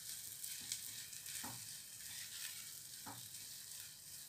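Sweet sheera cooks in a pan as it is stirred, giving a faint, steady sizzle with a few soft scraping strokes from the spoon. No one speaks.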